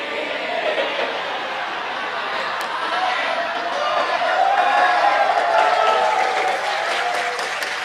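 A congregation at a Ramadan sermon in Indonesia applauds, a broad continuous wash of clapping and crowd noise that swells a little toward the middle and holds to the end.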